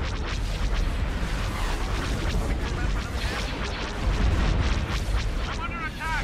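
Weapons fire in a Star Wars space battle game, with dense continuous blasts, booms and explosions rumbling together, loud and unbroken, with a brief whooshing streak near the end and no clear talk.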